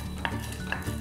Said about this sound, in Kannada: ಚೆನ್ನಾಗಿ ಹುರ್ಕೊಳ್ಳಿ.